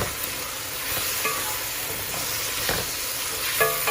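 Chicken frying with onions and tomatoes in a pot for homemade dum biryani, a steady close sizzle with occasional stirring scrapes and soft clinks, no talking.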